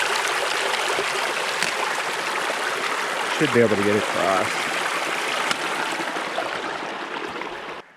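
A winter creek flows over ice-sheeted rocks, a steady close rush of water filling the scene while someone briefly speaks over it.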